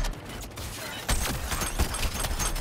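Bursts of gunfire in Suicide Squad: Kill the Justice League, shooting at minions, crackle over a busy game background, with sharp repeated shots clustering in the second half.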